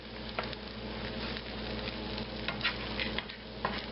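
Food stirred around in a frying pan for a dog's breakfast, a steady close sizzle with scattered scraping ticks and pops from the utensil.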